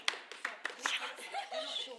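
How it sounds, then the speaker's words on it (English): A few sharp hand claps ring out in a rhythmic burst to call a room to attention, followed by people talking and chuckling nearby. "I have to start clapping like you do at school"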